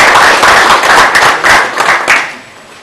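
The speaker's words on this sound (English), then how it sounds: "I thought the minimum we should do is to clap for him" Clapping from an audience at a business expo in Lagos, a close, loud burst of rhythmic handclaps that swells and then fades out after a couple of seconds.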